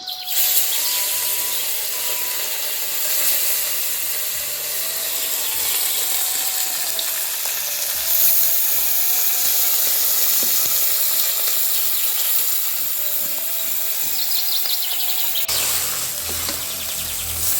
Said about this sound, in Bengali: তেলটা ভালো করে গরম হয়ে গেছে এখন মাছটা বেজে নিই